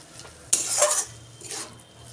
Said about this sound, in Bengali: মশলাটা একদম ভাজা ভাজা হয়ে এসছে।